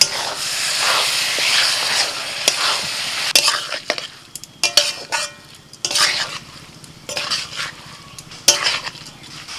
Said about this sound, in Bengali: মশলার সাথে চালটাকে নাড়াচাড়া করে নিয়েছি দু মিনিট মতো